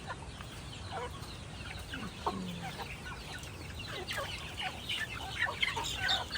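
Chickens in a shed cluck and squawk close by, with scattered short calls overlapping over a low background murmur that grows busier toward the end.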